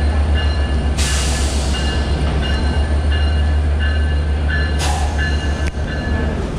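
A Bangladeshi diesel passenger train rolls along with a loud, steady low rumble, broken by a couple of brief hissing, screeching surges.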